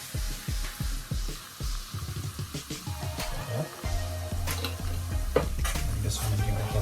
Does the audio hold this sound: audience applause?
no